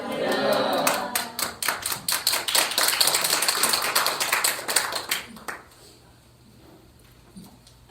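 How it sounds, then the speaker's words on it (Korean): A church congregation applauds to welcome a missionary to the front, a dense burst of hand clapping that rises, peaks, and thins into scattered claps before fading into near silence. "박수로 환영했으면 좋겠습니다"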